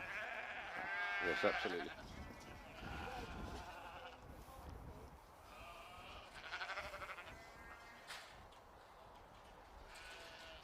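Sheep and ewe lambs bleating at a livestock show, several loud wavering bleats that overlap and recur throughout, under a commentator's voice and nearby crowd talk.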